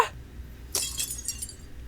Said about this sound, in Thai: มันก็มีเสียงกระจกแตกนะมันมีเสียงกระจกแตกอะ